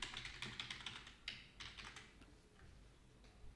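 Someone types on a computer keyboard at a close distance, with quick irregular bursts of light key taps that thin out and pause midway, then a few isolated presses, all quiet and with no talking.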